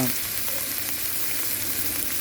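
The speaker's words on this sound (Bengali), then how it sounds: "আদা রসুন বাটা দিয়ে হালকা একটু নাড়া দিলাম" Ginger-garlic paste fries in a pan for a chicken curry, giving a steady, close sizzle with faint scraping as it is stirred, and no talking.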